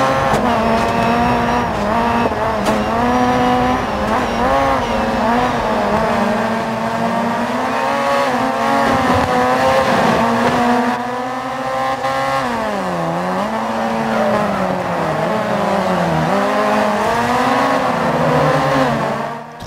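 Rally car engine in DiRT 4 racing, loud and continuous with revving pitch swings, gear changes and tire squeal throughout, no talk.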